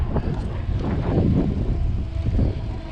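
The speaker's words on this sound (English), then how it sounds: "It's a little bit windy today." Steady wind buffeting a microphone at Granger Park in LaGrange, Georgia, a low rumbling roar that swells and gusts throughout, with no voices.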